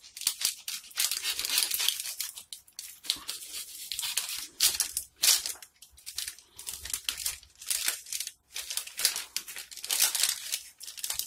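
A pound bakery sausage roll being cut apart: repeated crackling and crinkling of flaky pastry and its paper wrapping come in irregular bursts, close and fairly loud, with no talking.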